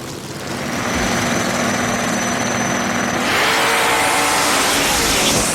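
A Pontiac Firebird and a '67 Camaro roar down a drag strip side by side, a loud continuous engine blast that swells in pitch and intensity as the cars accelerate away.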